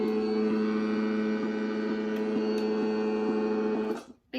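Steady electrical hum from a homemade metal detector held beside a switched-on calculator, a constant buzzing drone with strong even overtones that holds for about four seconds before cutting off abruptly.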